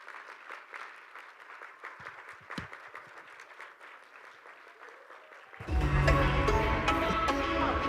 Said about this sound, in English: So please give your applause to Rina